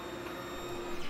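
A Brother GTX garment printer running a print job, giving a steady mechanical hum with a constant pitched whine and a faint whir, close and continuous for the whole moment.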